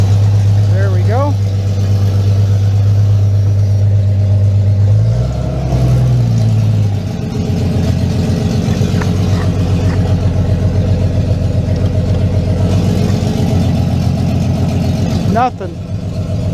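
A 1996 Jeep Cherokee XJ engine runs at a steady idle, loud and close, with a brief surge near the middle and short squeaks at the start and end; a voice talks over it.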